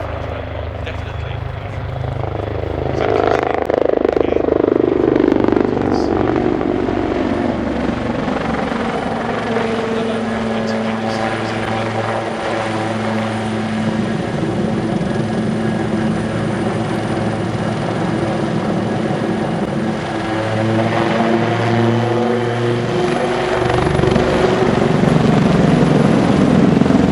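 A Royal Navy Wildcat HMA.2 helicopter flies a display at an airshow with a loud, continuous rotor and turbine roar that rises and falls as it passes, with a commentator talking over it.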